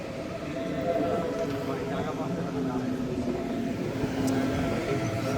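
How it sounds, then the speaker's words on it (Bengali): An S8 suburban train near Munich rolls into the station, a steady loud rumble and wheel noise holding throughout with a faint high squeal near the end, while people talk nearby. "আমাদের ট্রেন মনে হয় চলে এসেছে।"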